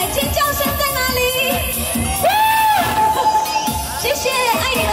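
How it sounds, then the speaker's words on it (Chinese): A crowd cheers and screams at an outdoor temple concert in Sihu, Yunlin, its roar mixed under loud live music with sustained singing throughout. "尖叫声在哪里？"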